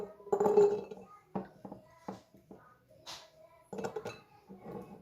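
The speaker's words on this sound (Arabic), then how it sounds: "غناخد الثومه وغنديرها في قريعه" Red garlic cloves are dropped one at a time into a small glass bottle, making faint scattered clinks and light knocks with quiet pauses between them.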